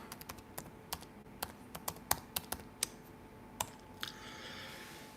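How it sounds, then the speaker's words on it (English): Someone types a promo code on a computer keyboard: a quiet, uneven run of about a dozen sharp key clicks, with a softer patter near the end. "So I'm going to type the promo code in here."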